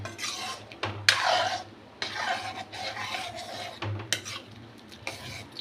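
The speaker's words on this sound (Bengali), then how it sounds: "ডালটাকে এবারে নেড়ে নেব একটু আবার" Chana dal is stirred in a pan, with a close spoon dragging and scraping in irregular strokes across the metal, rasping bursts separated by brief pauses and only a faint hint of sizzle.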